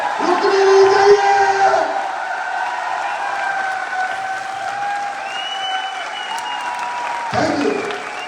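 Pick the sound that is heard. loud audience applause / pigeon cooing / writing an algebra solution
loud audience applause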